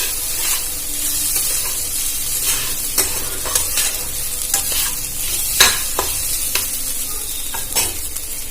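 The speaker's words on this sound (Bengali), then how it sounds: "এবার এটা ভালো করে নাড়াচাড়া করে নেব।" Chire pulao being stirred in a frying pan: a spatula scrapes and clinks against the metal over a constant sizzle, with irregular sharp knocks close by.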